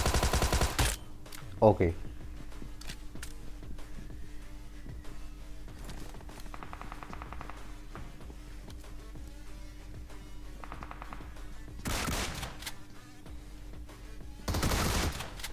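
DBS shotgun fire in the mobile battle royale game BGMI, heard as several loud booming blasts, one near the start and two later bursts, over constant game ambience while someone talks briefly.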